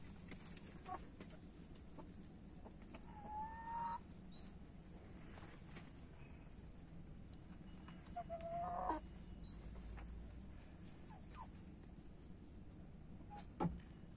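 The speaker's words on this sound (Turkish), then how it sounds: "evet, tavuklarımız." Splash Wyandotte hens cluck softly at a distance against a steady low background hum, with a few scattered clucks and short calls spread across the stretch.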